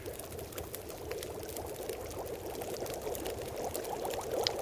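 Water pours continuously into a pot for melting in the survival video game The Long Dark, a steady, moderately quiet splashing stream lasting several seconds.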